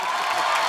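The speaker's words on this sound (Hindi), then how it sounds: "तालियां" A brief burst of crowd cheering and clapping from a comedy show's studio audience, loud and dense.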